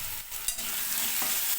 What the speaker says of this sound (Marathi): थोडं थोडं हलवत राहा.